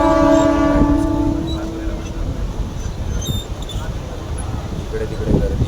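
Mumbai-area local train bound for Thane, a long horn blast opening over the steady rumble of the carriage, then continuous rolling noise on a crowded run with voices talking throughout.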